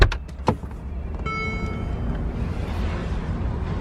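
Power windows on a Mercedes G550 4x4 Squared whir steadily with a close electric motor hum inside the cabin, after a few short clicks.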